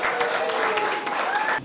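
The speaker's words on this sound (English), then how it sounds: "Give her a round of applause." An audience at a disability-access awards event claps steadily for a couple of seconds right after an award is presented, a dense, even applause with faint voices mixed in.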